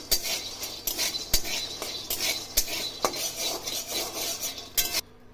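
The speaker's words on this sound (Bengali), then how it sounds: "শুকনো খোলা দিয়ে বাদামটাকে ভেজে নিচ্ছি" Peanuts dry-roasting in an empty pan rattle and clatter as they are stirred, with repeated close scraping strokes and sharp knocks in an uneven rhythm and no talking.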